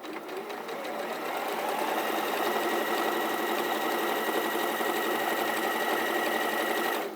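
A sewing machine runs steadily for about seven seconds, stitching a scant quarter-inch seam down a line of quilt triangles. The loud, even motor whir has no speech over it.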